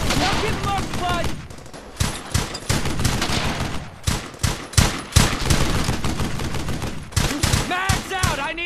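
Gunfire from the video game Brothers in Arms: Hell's Highway rattles in loud bursts and single sharp shots, dense and overlapping, with game voices shouting in between.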